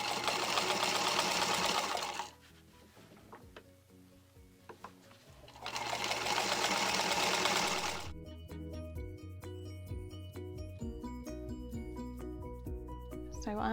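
A sewing machine stitches a strap on an apron made from old jeans, running in two loud bursts of steady whirring with a quieter pause between them, then giving way to softer clicking and handling noises.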